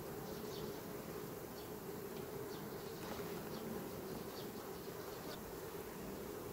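Dense, steady buzzing of many honey bees swarming around a hive whose colony is being tested for varroa mites, continuous and close with no talking.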